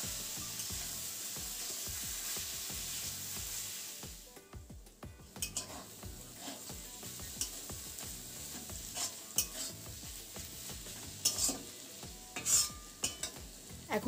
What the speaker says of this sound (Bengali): এখন এই টমেটো আর পেঁয়াজটাকে বেশ ভালোভাবে ভেজে নিতে হবে।